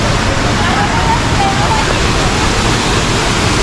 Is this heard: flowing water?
yes